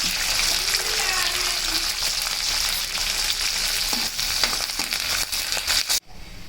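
Curry leaves and dried red chillies fry in hot oil for a papaya pickle, giving a loud, dense, continuous sizzle close by that cuts off abruptly near the end.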